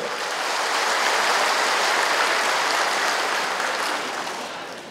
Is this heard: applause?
yes